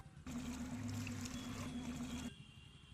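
A water tap left running pours in a steady, hissing stream for about two seconds, then cuts off abruptly, heard close and fairly quiet against faint background noise.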